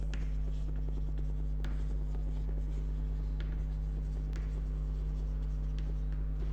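Marker or chalk scratches across a board during an accountancy class, short repeated strokes and taps over a constant low electrical hum, close and steady.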